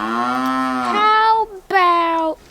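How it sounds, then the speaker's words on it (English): A young gray heifer gives two loud, close moos: a long drawn-out call followed after a short pause by a second, shorter one, with no voices over them. "So, Houston, do you have any idea what you're going to name your little gray heifer yet?"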